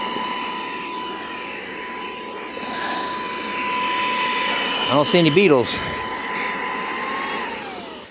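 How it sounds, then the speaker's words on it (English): A steady motor whine from a small handheld beetle vacuum used at a beehive hums continuously throughout, with a person speaking briefly over it midway. "Let's get our vacuum going for this one."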